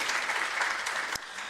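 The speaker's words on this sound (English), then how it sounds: "May we give her a big hand of applause for the" Audience applause at a university research and innovation week for a newly graduated doctor, a brief, even burst of clapping that cuts off sharply near the end.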